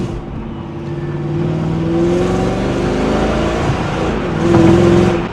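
A 20-year-old Mercedes E55 AMG wagon's engine pulls hard, a smooth rising drone with steady harmonic tones that climbs, dips briefly and swells louder again near the end, heard from inside the car.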